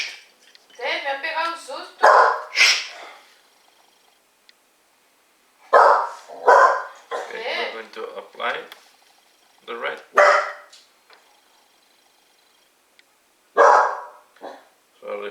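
A dog barks repeatedly in loud clustered bursts, some sharp and some close to a growl, with long quiet gaps between them while a person talks.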